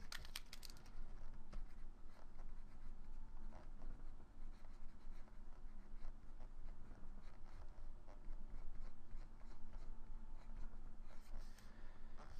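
A pencil or pen draws lines on paper while sketching a foreshortened figure, giving soft, continuous scratchy strokes that are faint and close, with no talking.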